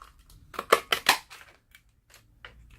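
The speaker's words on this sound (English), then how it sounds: "we are going to bring in our cookie cutter punch" A cookie cutter paper punch bites through cardstock in a quick cluster of crisp, crunchy snaps up close, followed by a few fainter clicks and rustles.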